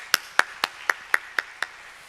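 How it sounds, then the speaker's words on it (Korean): Seven crisp, evenly timed claps in unison from a church congregation at a dawn revival service, close and distinct against a quiet background. "하나님께 영광의 박수 돌리겠습니다."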